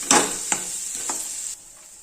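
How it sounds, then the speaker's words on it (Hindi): Khoya roasts in a pan over a low flame with a constant close sizzle, and three scraping strokes of the spoon stir it before the hiss drops away. "गैस की फ्लेम लो पर करेंगे और खोए को भी अच्छे तरीके से भुनेंगे"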